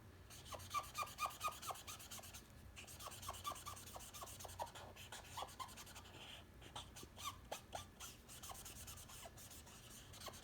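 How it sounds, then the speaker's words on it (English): A green crayon rubs across paper in quiet, repeated strokes, a soft rasping scrape that comes in short bursts with brief pauses, close and faint with no talking. "I'll use a green crayon."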